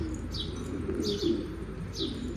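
A stray blue pigeon coos in repeated soft, low calls, with three brighter chirp-like notes spaced roughly a second apart; the bird is close and fairly quiet, with no talking.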